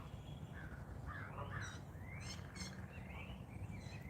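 A goose calls in short, honking bursts several times in the distance, faint over a steady low outdoor rumble in the Florida Keys.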